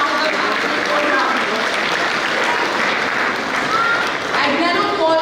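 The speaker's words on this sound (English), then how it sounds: "Keep the applause going, audience" Sustained applause from an audience at a cultural programme for the Feast of St. Joseph Vaz in Doha, Qatar, steady and full for the whole span, with a faint voice underneath.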